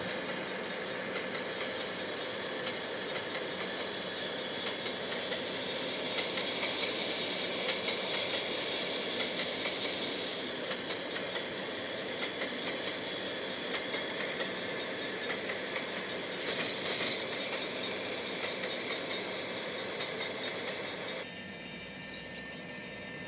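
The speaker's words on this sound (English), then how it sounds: "an empty coal train which had the red AWVR ES44AC leading a Milwaukee Road switcher" Empty coal train led by a red AWVR ES44AC locomotive with a Milwaukee Road switcher rolling past, a steady dense rumble and clatter of wheels and cars that stays loud throughout before dropping slightly at the end.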